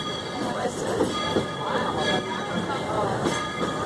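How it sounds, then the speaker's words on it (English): Walt Disney World Railroad steam train pulling into Main Street Station in the Magic Kingdom, a steady rumble of rail cars with faint clatter carrying on through the clip beneath an onboard announcement voice. "Ladies and gentlemen, we are now arriving at Main Street Station."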